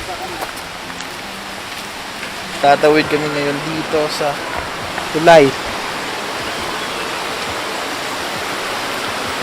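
The Malisbog River rushes steadily beneath a bamboo bridge, a loud continuous hiss of flowing water that runs through the whole stretch while someone speaks briefly over it.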